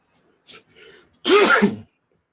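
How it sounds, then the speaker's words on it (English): A single loud sneeze with a sharp breathy burst, preceded by a few quick, quiet inhales. "I have to sneeze."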